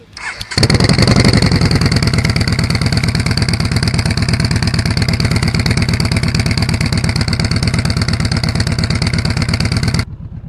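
A Yamaha Bolt motorcycle engine runs steadily and loudly close by while riding, a low rhythmic thrum with slight revving, continuous for about ten seconds before cutting off.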